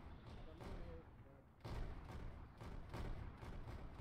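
Gunfire and heavy thumping blasts in a sci-fi shooter video game, with booms landing roughly every second over a dense battle rumble, mid-distance and fairly loud, with some background chatter.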